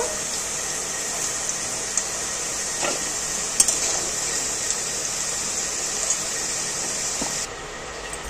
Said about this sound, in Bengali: আলুগুলো নুন দিয়ে হালকা করে ভেজে নিলাম